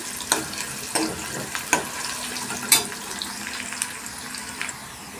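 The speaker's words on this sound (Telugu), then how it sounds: "సో ఆనియన్స్ అయితే కొంచెం వేగాయి" Onions frying in a pan of oil for Andhra-style pumpkin pulusu, a steady close sizzle broken by a few sharp clinks and scrapes of a spoon stirring, with no talking.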